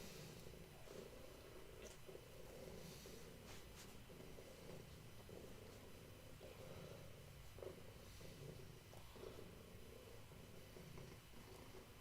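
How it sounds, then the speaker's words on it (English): A large, 18-pound male cat purrs in a steady, low, rumbling rhythm that continues throughout. The purr is fairly faint and heard close up, without talking. "You'll probably be able to hear him purring if I stop talking."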